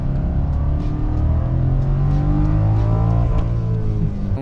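A Ford F-150 truck's 5.0L Coyote V8 revs high, close and loud, a steady droning roar whose pitch climbs across several seconds with no voices over it.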